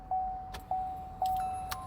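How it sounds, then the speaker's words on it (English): Three evenly spaced electronic chimes ring from a 2018 Chevrolet Tahoe as the key goes in and the ignition turns on, with soft key rattles and clicks between them in a quiet cabin. "you need to insert your key, turn on the ignition"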